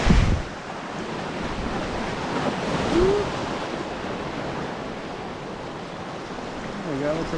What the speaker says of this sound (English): See what this little whitewater ruckus is all about.